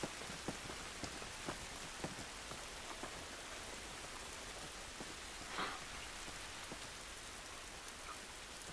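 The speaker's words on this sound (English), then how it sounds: "This rain ain't gonna do us any good." Steady rain pattering on surfaces in The Last of Us Remastered, a dense, even hiss with scattered louder drops, heard alone at moderate volume.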